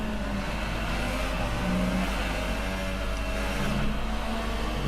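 A damaged Formula One race car from a racing video game drones steadily through a turn at the Spain circuit, its engine sounding continuous and strained with no talk over it.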